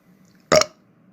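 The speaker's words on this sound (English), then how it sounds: "did you just burp?" A single loud burp in a classroom, short and close, standing alone against a quiet room tone.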